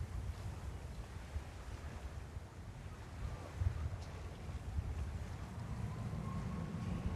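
Gusty wind at JFK airport roars across the microphone as a steady, low, rumbling buffet with slight surges, continuing throughout without any voices.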